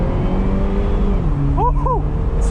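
A 2021 Mini Cooper S Convertible engine revs up, then eases as the pitch drops, with a short swooping whir partway through, all heard from inside the moving car.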